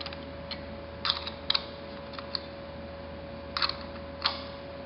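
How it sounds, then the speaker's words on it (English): A small short wrench snugs nuts on a machine setup, giving faint, sparse metallic clicks and ticks in small clusters over a steady electrical hum. "we use this little short wrench so you don't break the nuts off"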